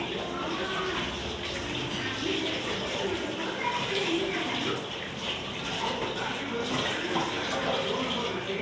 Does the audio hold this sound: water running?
yes